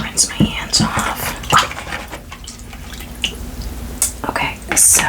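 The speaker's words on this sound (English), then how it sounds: "I'm just gonna rinse my hands off" Hands being rinsed in water during an at-home ASMR facial session, with soft drips and splashes that come and go in short bursts alongside quiet whispering.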